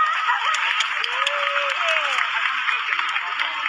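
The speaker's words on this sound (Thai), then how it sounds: "ปรบมือต้อนรับเลยครับ" Dense applause from a crowd greeting two guests at a monument plaza, a steady wash of clapping throughout with a faint tonal whistle gliding through the middle.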